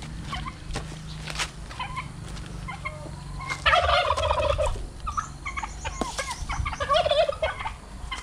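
A turkey gobbles repeatedly nearby, loud rattling calls coming in clusters over a low background hum, with no one speaking.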